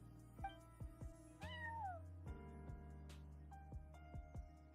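A cat meows repeatedly in Genshin Impact at an empty front desk. Several clear, sliding meows ring out, with one longer, rising call near the middle, over sparse tapping sounds.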